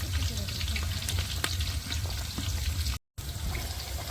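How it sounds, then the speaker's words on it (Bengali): Spice paste lightly frying in a pot over an outdoor picnic fire, a loud, close sizzle with scraping stirs and a low rumble beneath, broken by a brief cut to silence. "পেস্টটা তো হালকা ভাইজে নিচ্ছে"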